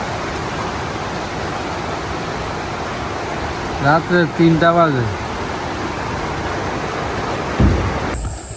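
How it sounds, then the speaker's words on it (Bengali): Heavy rain pours at night during village flooding, a dense, constant hiss that fills the whole stretch, with a voice speaking briefly over it in the middle. "প্রচুর বৃষ্টি হইতেছে"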